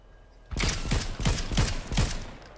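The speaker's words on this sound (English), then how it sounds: "This man got the OP burst rifle type shit." Burst rifle fire in the Fortnite battle royale game: a quick, close sequence of sharp, punchy shots coming in a few tight bursts, loud and alone.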